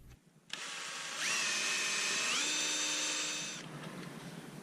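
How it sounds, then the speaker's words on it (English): A power drill countersinks small pilot holes in a plywood shelf with one close, high whine lasting about three seconds. The pitch steps upward partway through as the bit spins up, then cuts off into quiet. "I'm countersinking the small pilot holes I drilled."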